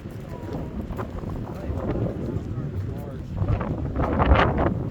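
Strong wind buffeting outdoors near a cabin, a rough low rumble gusting harder toward the end, with voices speaking over it.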